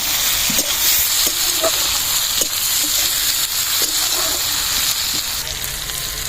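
Tomato and slit green chillies fry and get stirred in a pan, giving a steady close sizzle with spatula scrapes and clinks at irregular intervals throughout.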